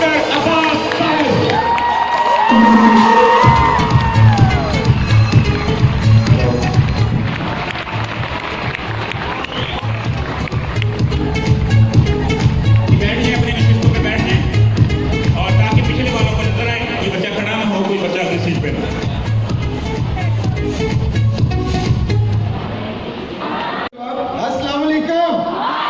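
A large audience at a college event cheers, whoops and applauds in welcome for the motivational speaker Akhtar Abbas, a loud, sustained crowd roar that runs for most of the stretch and fades near the end.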